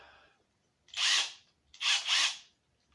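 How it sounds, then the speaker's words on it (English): Cheap Black & Decker right-angle drill attachment driven by a drill, whirring in two close, loud bursts, the second with a brief dip mid-run, separated by quiet. "right angle connector for the drill."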